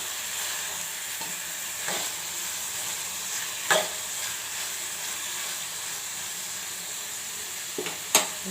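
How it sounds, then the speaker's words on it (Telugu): A pan of tomato dal with turmeric and chili powder is stirred over the heat, producing a continuous soft sizzling hiss broken by a few spoon scrapes and knocks against the pan. "ఇప్పుడు ఇందులోనే పసుపు, కారం వీటిని వేసేసి మరొకసారి కలిపేసుకుందాం మొత్తం."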